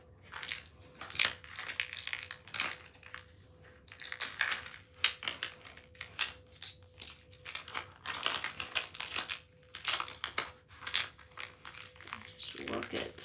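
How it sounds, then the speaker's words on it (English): App tape peels slowly off 651 adhesive vinyl on a garden-flag door hanger, giving close, irregular crackling and sticky ripping bursts with short pauses between pulls, and someone talks quietly at times. "when you remove your app tape, don't pull it straight up"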